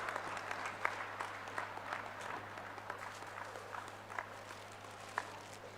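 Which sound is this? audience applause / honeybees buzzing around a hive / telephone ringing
audience applause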